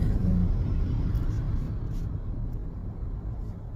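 Road traffic in Marikina after a typhoon rumbles low and steady, a continuous vehicle drone at moderate distance that slowly fades.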